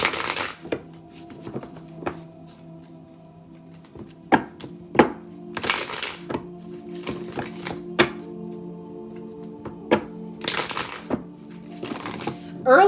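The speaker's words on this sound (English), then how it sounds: "Shuffle for Golden at this time." Tarot or oracle cards are shuffled in repeated riffling bursts, each a quick flurry of crisp flutter, separated by pauses with softer handling sounds and a low hum.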